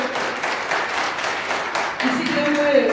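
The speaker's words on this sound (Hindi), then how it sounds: "जोरदार तालियों के साथ स्वागत करें।" Audience at a cable operators' association oath-taking and honour ceremony in Udaipur applauding to welcome the chief guest: continuous crowd clapping, with a voice speaking over it toward the end.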